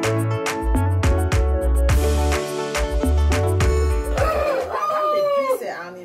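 Several roosters crow loudly in overlapping calls, with hens clucking around them, all close by and echoing in a barn-like space on a poultry farm.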